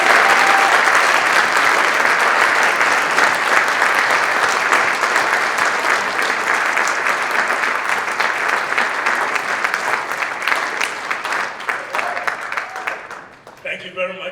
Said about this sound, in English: Thank you very much for applauding.